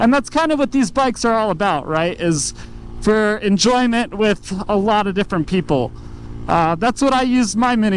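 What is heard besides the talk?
No everyday noises stand out.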